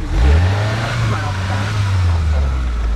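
Suzuki Samurai on small tires off-roading, its engine loud and close with a strong low growl that surges and then holds steady.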